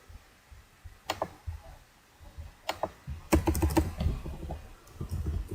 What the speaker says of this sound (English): let's just type it down here